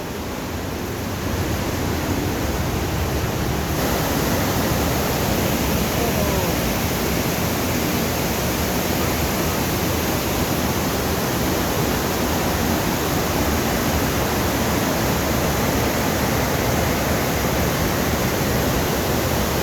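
Water rushes over Wawa Dam in a loud, unbroken roar, a broad steady wash of falling water filling the whole stretch with no pauses or voices.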